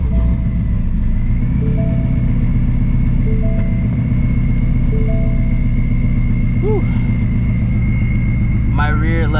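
A supercharged Shelby GT350 engine runs at a steady, rumbling idle close by, its deep drone continuous from start to finish while a person talks over it.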